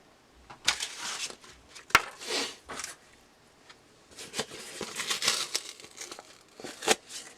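Close, crinkly tearing and scraping of the top paper layer being peeled from cardboard, in uneven bursts with sharp snaps, no talking.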